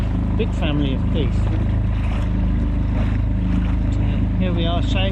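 The engine of a sailing boat on Scottish waters runs at a steady low drone, with wind buffeting the microphone while people talk over it.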